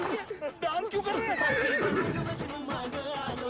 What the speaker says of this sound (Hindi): ये घोड़ा गाना सुन के डांस क्यों कर रहा